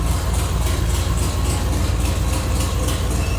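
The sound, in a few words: car engine running loud, missing catalytic converter and downpipe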